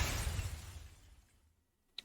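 A glass-shattering sound effect, auditioned for a VTubing app's particle effects: one loud crash that breaks into bright scattering fragments, fades over about a second and a half, then ends in a single faint tinkle.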